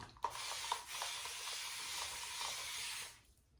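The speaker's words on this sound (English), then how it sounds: "let's give it spray down and see where we're at." A spray bottle hisses in one continuous misting burst lasting about three seconds, close by, starting with a sharp trigger click and then cutting off.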